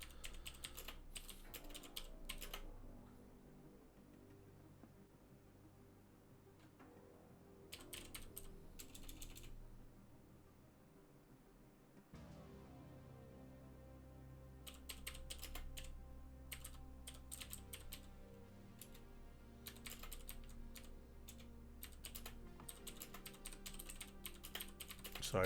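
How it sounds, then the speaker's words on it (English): Fingers type on a computer keyboard in quick, close clicking bursts, with short quiet pauses between them. The sound is soft and stands alone. "Sorry for the typing"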